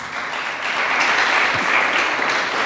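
Church congregation applauding during a sermon, a steady dense wash of many hands clapping together, moderately loud and continuous with no voices over it.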